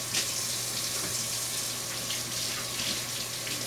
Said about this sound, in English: Now I'm going to wash my hands here quickly